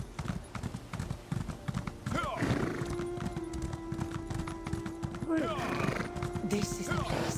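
A horse gallops in Elder Scrolls Online, with quick rhythmic hoofbeats running throughout and two whinnies breaking in, the mount sounding close and fairly loud alongside someone talking over it.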